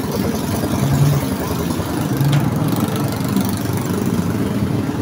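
A Honda TMX motorcycle engine runs at a steady, low idle close by, with a continuous rumbling drone and no clear pauses.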